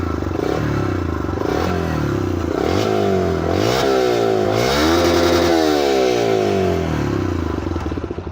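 A Yamaha YBR125G motorcycle fitted with a free-flow exhaust revs repeatedly, the engine note climbing and dropping in several loud, close blips with no talking over it.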